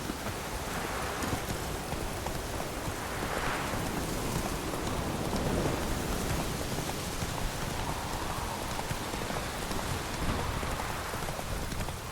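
Steady, dense rain pours continuously in the video game The Witcher 3: Wild Hunt, a broad hiss of drops on surfaces with a faint wind-like swell, no speech.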